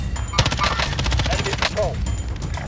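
Rapid bursts of submachine gun fire in a video game, a dense rattling string of shots running through the whole stretch with a steady loud level and game effects mixed in.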